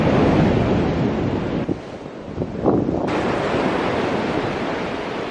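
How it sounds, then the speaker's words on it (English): Rough ocean surf breaks steadily on a beach along Sri Lanka's south coast, a continuous loud wash of waves with heavy wind buffeting the microphone and one brief surge of spray midway. "One of the most essential Sri Lankan experiences is to spend a day at the beach. It's a little rough"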